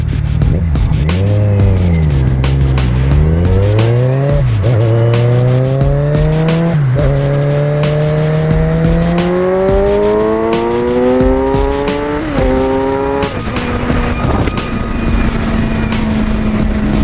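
A Kawasaki Ninja 1000 motorcycle accelerates hard through several gears, its engine note rising steeply and dropping at each shift, loud and close throughout with steady wind roar.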